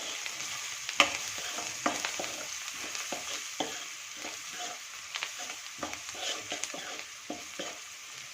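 Spices, red chili powder and garam masala, being stirred into a pan for a Konkani-style raw jackfruit dish, with repeated scraping strokes of a spoon over a steady low sizzle, close and without talk.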